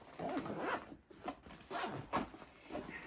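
A zipper on a compartment of a hospital maternity bag, pulled in several quick, close rasping strokes with brief pauses between them.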